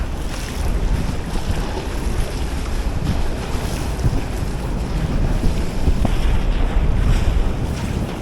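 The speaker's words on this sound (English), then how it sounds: "Oh man, it's pumping here today. Absolutely pumping. The wind." Strong wind gusts across the Swan River in Perth, roaring and buffeting the microphone continuously, with water choppy and slapping close by under a constant rush.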